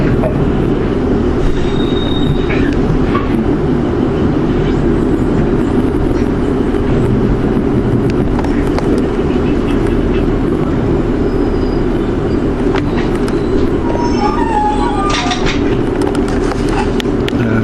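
A Class 47 diesel train curves out of Bedford St John's past old sidings with a loud, constant rumble of engine and wheels on rail, and thin squeals from the wheels rising over the roar.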